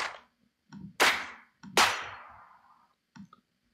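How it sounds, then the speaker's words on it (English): Layered clap drum samples played in Native Instruments Maschine sound as two loud, sharp claps with long ringing tails. Softer, shorter clap hits sit around them, separated by silent gaps. "And I wanted to stack it with a higher end clap."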